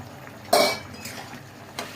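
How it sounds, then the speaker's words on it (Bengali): A lid comes off a pot of simmering potato curry (alur dum) with one sharp metallic clank, followed by softer scrapes and a second light clink, close and without talking. "ঢাকাটা এবারে খুলছি।"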